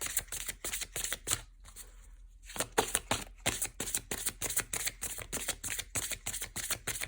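Tarot or oracle cards being shuffled by hand, a quiet rapid series of crisp flicking riffles with a brief pause, close and without talk.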